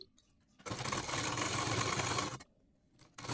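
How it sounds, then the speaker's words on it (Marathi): A sewing machine stitching tucks into a blouse runs in one steady, close, loud whirring burst of about two seconds, starting and stopping abruptly, with no talk. "आणि आता मी ते शिलाई मारणार आहे"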